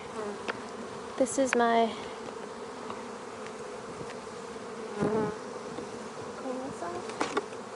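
Honeybees buzz steadily around an opened, overwintered backyard hive during a spring inspection, with louder swells as bees fly close past, while a person speaks briefly and handles the hive board nearby.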